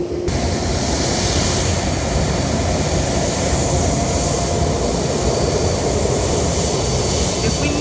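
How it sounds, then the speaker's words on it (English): An Iberia Airbus A330-200 jet at San Juan airport gives a loud, unbroken broadband roar that holds steady throughout, with no clear voices on top. "In the background is Iberia flight 380 heading to Madrid on an A330-200"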